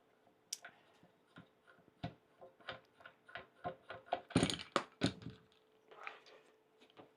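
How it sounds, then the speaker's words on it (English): Plugs being pulled out and a Laser Peck 2 laser module detached from its frame, a series of close, crisp plastic clicks and knocks in an irregular rhythm with a louder cluster of snaps near the end. "I'm going to quickly take the two plugs out and just take the laser off."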